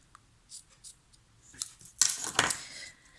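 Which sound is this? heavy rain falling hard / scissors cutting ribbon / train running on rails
scissors cutting ribbon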